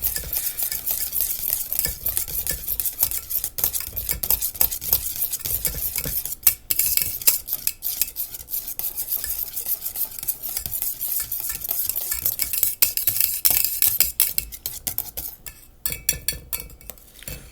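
A whisk beats a homemade eggnog mixture in a bowl, giving quick, rhythmic rattling and clinking strokes that run almost without a break, with no speech.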